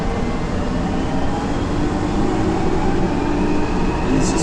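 A London Underground Jubilee line train running through a tunnel, a loud, steady broadband roar and rumble of wheels and motors that holds constant throughout, with no voices.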